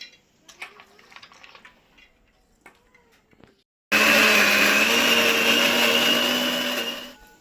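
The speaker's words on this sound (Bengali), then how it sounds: "এটাকে আমি এরপর মিক্সিতে বেটে নিয়ে আসবো।" A mixer grinder whirs loudly and continuously as it dry-grinds soaked, drained lentils, starting abruptly after a quiet stretch of faint kitchen clatter and handling sounds, then the motor winding down at the end.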